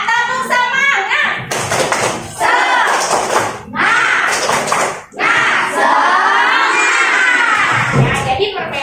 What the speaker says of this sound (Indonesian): Ayo semangat, tepuk semangat.